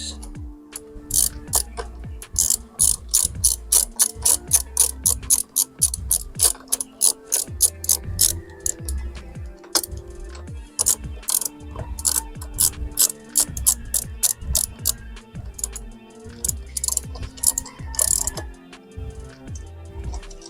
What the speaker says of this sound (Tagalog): Gamitin natin ng ratchet.